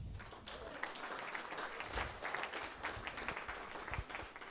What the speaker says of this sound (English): So round of applause for yourselves.